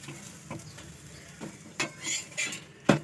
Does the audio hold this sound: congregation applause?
no